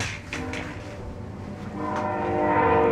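A passing train blasts its horn in a long, loud, sustained tone that swells toward the end over a rumbling rail background.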